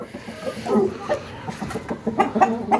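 Chickens cluck in short, scattered bursts close by, with soft rustling in the background and no talking.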